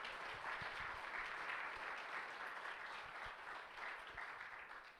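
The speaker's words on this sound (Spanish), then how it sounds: "quiero que a todos juntos como hermanos le demos un aplauso a nuestros hermanos" An audience at a church conference applauds together, a faint, dense wash of many hands clapping that holds steady throughout with no voices.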